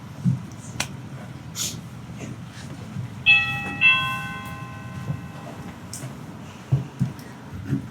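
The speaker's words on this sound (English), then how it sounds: "The bell certainly works." A loud bell rings with clear harmonic tones at a downtown meeting setting, struck a couple of times and left to ring out over a low background rumble.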